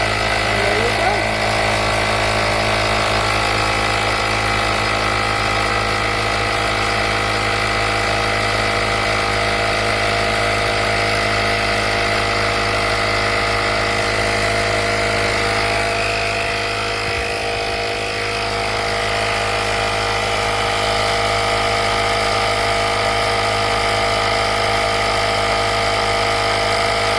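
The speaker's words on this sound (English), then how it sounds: "It's a jump starter with air compressor." The built-in air compressor of a PIRAIL portable jump starter runs continuously for nearly half a minute, a loud, close, steady mechanical drone with a slight dip partway through, while someone talks over it.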